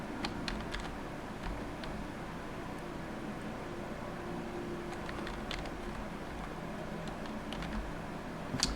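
Quiet, steady typing on a computer keyboard, a continuous patter of small clicking keystrokes over a low background hum, with no voices.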